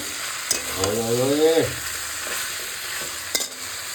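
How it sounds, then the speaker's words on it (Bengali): Chicken pieces fry on medium heat in a pan and are stirred steadily under a constant loud sizzle. The spatula scrapes through the middle with a brief squeaking rasp, and a couple of sharp knocks land against the pan. "মিডিয়াম হিটে ভালো করে সবটা একটু ভেজে নেবে"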